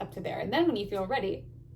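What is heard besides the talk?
No everyday noises stand out.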